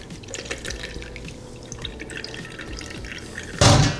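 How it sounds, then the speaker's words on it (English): Liquid for a cherry pie filling is poured through a strainer into a pan, a soft steady trickle and dripping close by, ending in a brief louder splash. "lay our strainer over and pour it directly in"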